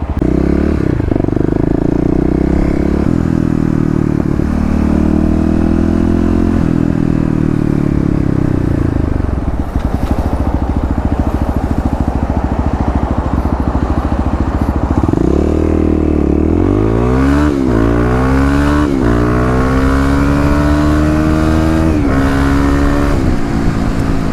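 A 2018 EFI Kawasaki KLX351 dual-sport motorcycle accelerating hard through the gears, its engine note climbing in pitch, dropping at each shift and rising again, loud and close throughout with no talking.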